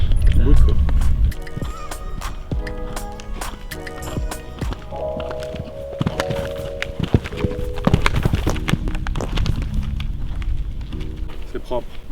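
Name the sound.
horse hooves on a show-jumping course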